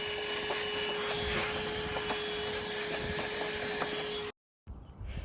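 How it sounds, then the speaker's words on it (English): A vacuum cleaner sucks debris from a heat pump's outdoor unit, making a steady loud roar with a constant whine and faint rattles and clicks of material being picked up. The vacuum cuts out abruptly near the end. "now go through, vacuum all that up"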